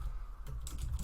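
Keys tapping on a computer keyboard while an email is written, a short close burst of soft clicks over a low steady hum, with no voices.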